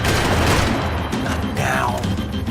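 Gunfire from the video game Max Payne 3: a dense, continuous barrage of shots and booms that stays loud and steady throughout, with a faint voice blending into the mix.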